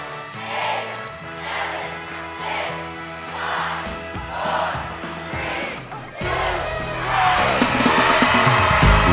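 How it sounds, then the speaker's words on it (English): An audience at a library magic show applauds and cheers, a swelling crowd roar that grows louder toward the end over steady background music. "Please welcome Jeff Evans and his amazing magic show with a big round of applause."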